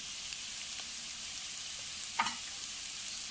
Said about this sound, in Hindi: अभी प्याज हमारे भून रहे हैं तो इसमें हम थोड़ा सा पहले हींग भी डाल देंगे।